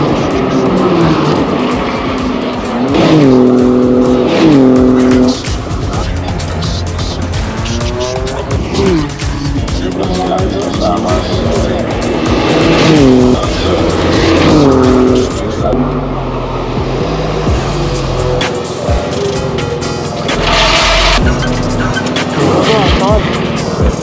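Mini Cooper race car on a circuit making a standing start, the engine revving hard with rising and falling pitch sweeps and tire squeal, loud and close, with people talking over it.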